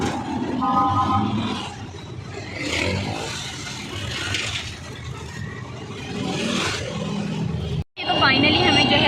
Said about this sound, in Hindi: ट्रैफिक का आवाज़ आपको आ रही होगी, शोर बहुत ज़्यादा है।